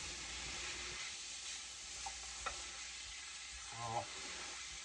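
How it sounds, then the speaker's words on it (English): Onions and carrots frying in a pan, a steady soft sizzle heard close up, with a few brief scrapes and clinks as they are stirred. "we just gotta keep giving it a little stir till the the onions are softened down"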